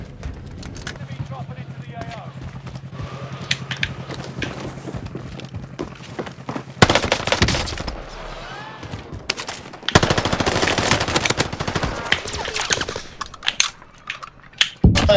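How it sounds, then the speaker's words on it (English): Automatic gunfire in Call of Duty on Rebirth Island, rapid bursts of shots coming in loud stretches between quieter game sounds, with a player talking over parts of it. "Of course you got an automatic gun."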